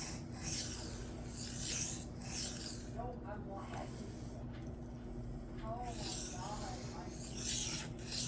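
Cold Steel Kudu Lite knife blade being drawn across a coarse Shapton Glass 220 sharpening stone, steady rasping strokes that continue throughout and are close to the microphone.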